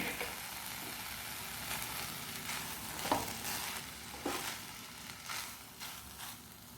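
Chicken fried rice gets tossed and stirred in a hot frying pan with pepper powder and vinegar, a steady soft sizzle broken by repeated scraping, clattering spatula strokes at irregular intervals, fairly quiet and without talk.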